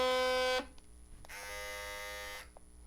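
A quiet replica electric hair clipper buzzes in two bursts, each a steady tonal hum with a short pause between them and no voices.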